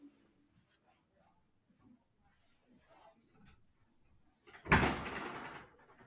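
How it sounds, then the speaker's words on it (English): A classroom door is pulled shut with one sharp, fairly loud thud and a brief rattling decay, after a stretch of quiet room noise with faint movement. "I'm gonna shut the door."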